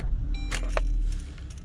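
A key jingling as it turns in the ignition of a Suzuki Swift Attitude 1.2 manual, followed by a brief starter whir and the engine settling into a low, steady idle nearby.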